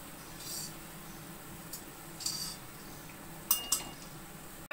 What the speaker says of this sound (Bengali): এবার এই ছান্তাটার সাহায্যে আস্তে আস্তে বোঁদেগুলোকে আমি তুলে নেব।